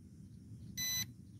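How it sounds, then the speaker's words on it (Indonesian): A drone gives a single short, high electronic beep during calibration, fairly faint and heard alone over a low background hum. "ini bunyi bip sekali"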